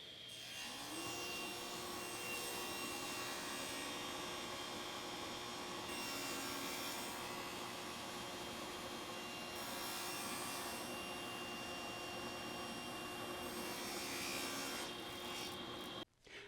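A table saw cuts through wood with the blade set a half tooth above the material, a loud steady whine and rasping bite running continuously for about fifteen seconds, swelling in several passes before cutting off abruptly.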